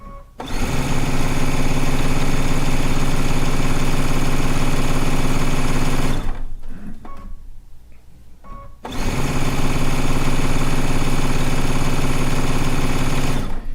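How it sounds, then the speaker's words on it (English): A vintage sewing machine runs steadily with a dense, even mechanical whir, drops out for a short pause of low rumble and faint clicks, then resumes at full loudness close by. "It's always good to sew on a vintage machine"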